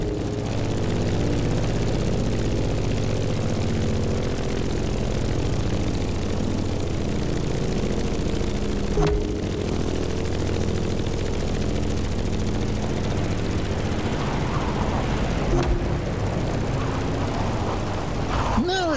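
The piston engine of a Grumman F8F Bearcat propeller plane drones steadily in The Crew Motorfest racing game, a loud, constant thrum with a couple of brief swells and sharp transient bursts along the way.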